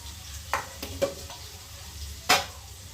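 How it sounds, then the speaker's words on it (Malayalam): A few scraping strokes of a spoon stirring potatoes as they fry, three or four distinct clinks and scrapes over a faint, steady sizzle, close and fairly quiet with no talking. "ഉരുളക്കിഴങ്ങ് ഇളക്കി കൊടുക്കാം"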